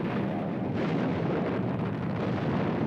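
A continuous heavy rumble of explosions from bombing of anchored battleships in the Pacific during World War II, dense and roaring for the whole stretch with no clear separate blasts.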